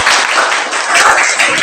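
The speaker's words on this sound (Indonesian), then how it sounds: "Baik, tepuk tangan dulu." A school class bursts into applause, a loud, dense wash of many hands clapping together throughout.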